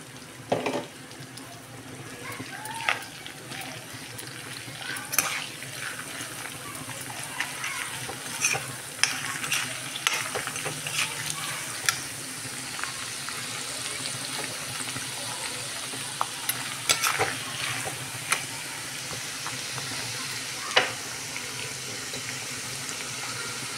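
Ginger and garlic fry in oil in a pan and are stirred, making a steady, moderate sizzle scattered with scraping and clinking from the utensil, close by and with no talking.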